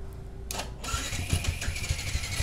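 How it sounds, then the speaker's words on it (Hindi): A Yamaha R15 V2 motorcycle cranks without starting: the starter motor whirs in a steady rhythmic grind with a faint mechanical hum beneath, close by and moderately loud, with no engine catching. "देखिए बाइक हम लोग का स्टार्ट नहीं हो रहा है ठीक है, स्टार्ट नहीं हो रहा है"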